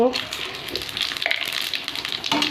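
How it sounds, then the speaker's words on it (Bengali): Spices dropped into smoking-hot oil while cooking jackfruit: a brief, fairly quiet hiss and sizzle, with a voice speaking over it. "তেল গরম হয়ে ধোয়া উঠছে, এবার মশলা দিয়ে দেব।"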